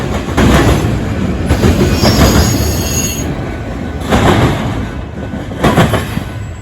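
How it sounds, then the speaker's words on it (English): Westbound intermodal freight train on the Geneva subdivision in Illinois passing very close, loud rolling rumble and clatter with squealing wheels and rhythmic surges as cars go by. "A westbound intermodal train snuck up behind me on the Geneva subdivision"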